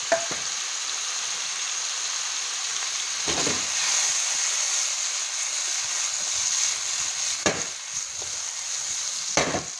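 Porcini mushrooms mixed with a few ovoli sizzle steadily in a hot pan, a close, constant crackling hiss with occasional louder clatters from stirring.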